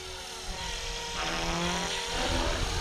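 A Blade Fusion 360 six-cell RC helicopter punches out into a climb, its rotor and motor whine rising in pitch and intensity, steady and fairly close, with a low buzzing drone underneath.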